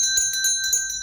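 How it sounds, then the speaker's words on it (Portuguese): A bright notification bell chimes over and over in a fast, even series, each strike ringing loud and clear with a shimmering tone. "aciona o sininho das notificações"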